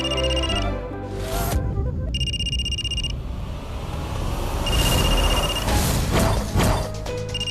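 A mobile phone ringtone chimes in repeated bursts, loud and close, during a family gathering, with rumbling background noise between and under the rings.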